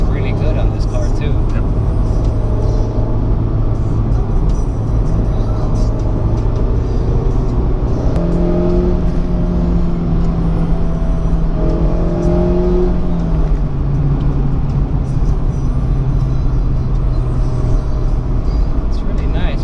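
A 2016 Mazda Miata's four-cylinder engine drones steadily while driving, its pitch climbing and shifting midway as revs rise and fall, under constant close cabin noise with someone talking over it.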